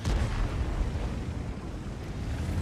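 A tank gun firing in a tank battle video game, a heavy booming blast with a rumbling low-end explosion that fills the whole moment, no speech over it.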